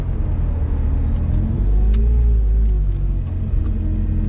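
A K-swapped Porsche cruises down the street at about 3,000 RPM in hot weather, a loud, steady low engine rumble and road drone heard from inside, with a slight rise in pitch midway.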